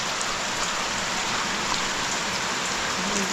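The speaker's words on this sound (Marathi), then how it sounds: "पावसाने बघा हजेरी लावले" Steady, dense rainfall pattering on a surface, a constant close hiss with occasional louder drops and no voices.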